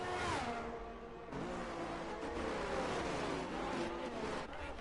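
Race car engine in a racing game at the Australia round, a steady droning motor with a shifting pitch as the car rolls into the pit lane, moderately loud and alone.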